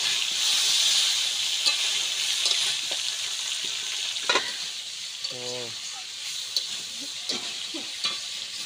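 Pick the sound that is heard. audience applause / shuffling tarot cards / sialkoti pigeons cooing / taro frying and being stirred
taro frying and being stirred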